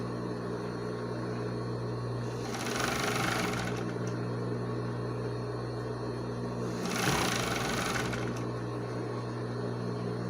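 A sewing machine stitches a stretch-knit ballet leotard in two short, fast-running bursts of stitching. A steady low hum runs under both bursts, with a quiet pause between them.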